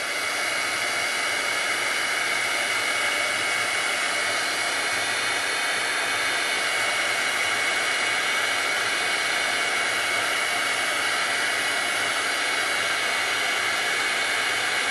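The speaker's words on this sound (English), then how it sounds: "heat gun to finish up the rest." A heat gun blows steadily on shimmer powder over floral paper, giving a loud, constant broadband hiss and roar that runs unbroken and close throughout, with no talking.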